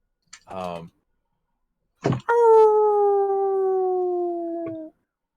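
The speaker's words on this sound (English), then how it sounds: "Some sort of howling off in the distance." A single wolf howl, part of a tabletop fantasy role-play session set in Barovia, rises after a brief clatter and holds one long, steady, slightly falling tone for about three seconds before a soft click ends it; a short vocal burst comes before it.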